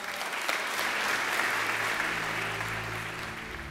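Full, sustained applause from an audience in the Umbria regional council assembly hall in Perugia, dense and even for several seconds before tapering slightly, with a low hum entering near the end.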